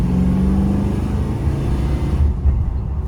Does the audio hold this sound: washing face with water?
no